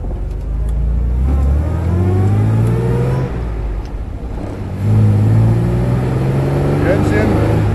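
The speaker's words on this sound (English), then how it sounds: "Let's start up the big six cylinder engine, 3 liters." An Austin-Healey 3000 Mk III's 3-liter six-cylinder engine hums and revs as the car pulls away, its pitch rising, dipping with a gear change through its 4-speed gearbox, then climbing again.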